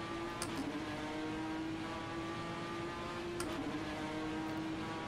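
A video game Ford GT GTE race car engine hums at steady revs, slightly hollow and reverberant, with a couple of brief clicks over the drone.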